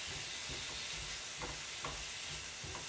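Meat fries in a pan for Philly cheesesteaks, giving a faint, steady sizzle with a few soft stirring scrapes spread across the moment.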